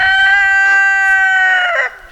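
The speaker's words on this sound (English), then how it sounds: "Disrespectful roosters." A rooster crows once, loud and close, a long harmonic call that holds steady before dropping off at the end.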